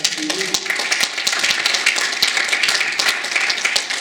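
A congregation applauds at a church service in honour of fundraiser pledge-drive contributors: steady, dense clapping from many hands fills the room throughout, with some voices mixed in.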